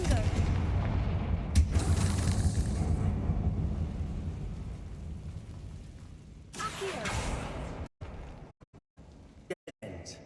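A fiery blasting spell from Hogwarts Legacy detonates with a loud low boom, followed by rumbling debris and sharp bursts, then several abrupt cut-offs and scattered cracks near the end.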